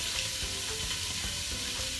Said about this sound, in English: And I am going to add my carrots and my onion